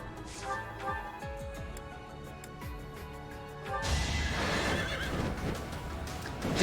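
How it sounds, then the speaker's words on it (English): A wyvern mount in Fire Emblem: Three Houses lets out a horse-like neigh amid clip-clopping hooves during a battle, followed by a crashing hit and rushing combat noise. "Did that wyvern just neigh?"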